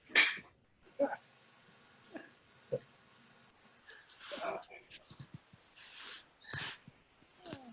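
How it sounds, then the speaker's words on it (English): Dogs bark in short, separate bursts at home, some fairly faint and others sharper and nearer, with a few whimpery sounds between them. "Sorry, barking dogs."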